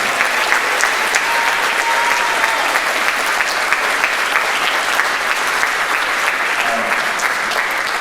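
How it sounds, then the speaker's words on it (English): Sustained audience applause at a Kailua High School band concert, a dense, even wash of many hands clapping that continues without a break throughout. "So can we have another round of applause for all of this?"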